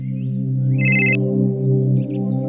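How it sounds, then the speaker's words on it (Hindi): A mobile phone ringtone plays loudly in a Hindi crime-drama scene: a sustained melodic tone with a short, bright chiming burst partway through, heard alone without speech. "बहुत देर से वहीनी का फोन आ रहा है।"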